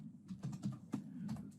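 Keys on a computer keyboard are tapped in an irregular run of soft clicks at close range, with a few brief pauses between strokes and no voices.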